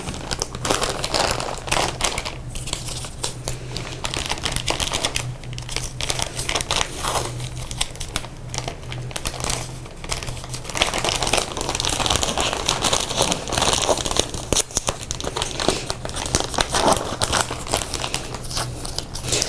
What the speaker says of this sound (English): I can either reuse my old tape or I can tape it up again with some new tape